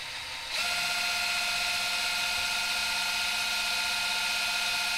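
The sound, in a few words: power drill pumping oil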